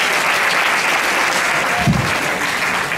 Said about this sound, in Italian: Un applauso, Antonio.